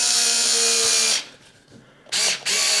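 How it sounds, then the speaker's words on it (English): A Parkside 4V PAS 4 D7 cordless screwdriver drives a larger screw, its motor whirring loudly for about a second, pausing, then whirring again in a shorter burst, close up. "I'm just checking the power for this screwdriver,"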